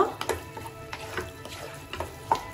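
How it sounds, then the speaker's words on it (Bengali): A spoon scrapes and taps in a pan of egg bhurji made with boiled eggs on a gas stove, faint irregular clicks and stirring over a soft sizzle, close by with no talk. "এবার এটাকে আমি ভালো করে নেড়ে ছেড়ে নেব এবার গ্যাসটা একটু বাড়িয়ে দেব"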